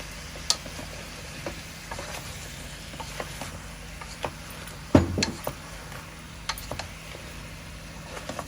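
Food fries in a pot while being stirred, with a low steady sizzle behind scattered sharp clicks and scrapes of a spoon against the pot, including one louder knock, close and with no talk.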